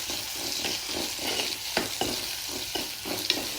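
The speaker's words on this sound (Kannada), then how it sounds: "ಒಂದೊಂದು ಫ್ರೈ ಮಾಡ್ಲೆ 1 ನಿಮಿಷ ಫ್ರೈ ಮಾಡ್ಲೆ" Okra (lady's finger) frying in a pan for a Mangalore-style pulimunchi gives a steady soft sizzle, broken by several sharp scraping clicks as it is stirred, with no voices.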